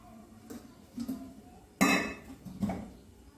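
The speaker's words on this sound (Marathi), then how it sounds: "त्यावरती आता आपण ताट ठेवायचं आहे आणि ताटामध्ये पाणी टाकायचं आहे" A steel plate is set down on a steel pressure cooker on a gas stove with one loud metallic clank, preceded and followed by a few lighter clinks of metal on metal.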